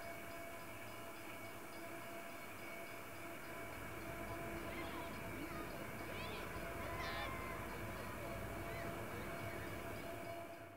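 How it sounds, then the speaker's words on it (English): Penn Central freight train of mostly boxcars led by General Electric U23B and U25B diesel locomotives passing a weathered brick depot in snow; a steady, faint rumble and rolling rail noise with whining tones continues throughout, heard from some distance. "A General Electric U-23B and U-25B lead the train of mostly boxcars past the weathered brick depot."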